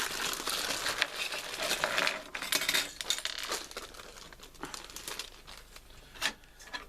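Plastic Playmobil packaging bags crinkle and tear open in quick, irregular bursts close by, with small parts rattling inside, fairly quiet and with no talking.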